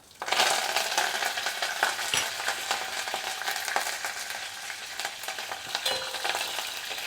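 Curry leaves drop into hot oil with tempering spices and fenugreek for masala vada pulusu, giving a bright crackling sizzle that flares at first, then settles into steady frying with occasional stirring clinks of a utensil.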